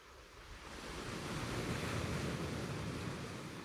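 Ocean surf rolls in a broad, hissing wash that swells and slowly recedes, steady and fairly close, with some wind noise and no talking.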